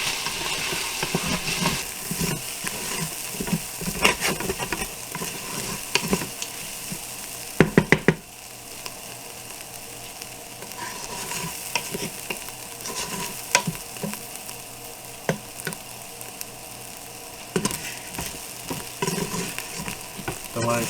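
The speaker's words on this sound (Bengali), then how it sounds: "দেওয়ার পরে এখন নাড়বো" Khichuri stirred with salt in a pan produces loud, continuous scraping and clanking of a spoon against metal over a frying sizzle, with a brief burst of heavier clatter partway through.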